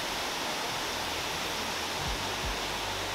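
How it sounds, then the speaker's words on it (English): A man-made waterfall at La Planta in Arecibo, Puerto Rico, a former hydroelectric site, gives off a loud, steady broadband rush of falling water, with a couple of faint low thumps near the end. "This right here is the man-made waterfall."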